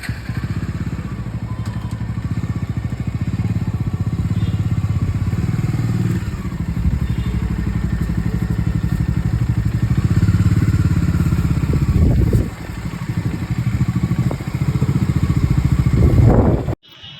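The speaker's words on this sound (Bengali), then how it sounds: "তো বাইক হোটেল প্রেমিসিসের ভেতরে ঢুকে গেছে" Motorcycle engine rumbling steadily at close range as the bike rolls into hotel premises, with a few clattering thumps near the end and no talk.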